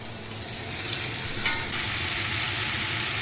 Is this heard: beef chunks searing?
yes